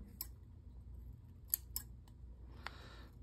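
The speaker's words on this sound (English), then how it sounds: "These are my mama's scissors" A few quiet, crisp snips of scissors cutting fabric or paper, scattered irregularly over a low background hum.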